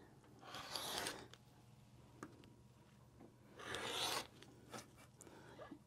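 Fabric for an equilateral quilt is cut with a rotary cutter along a ruler, giving two soft rasping strokes with light clicks between them, quiet and close.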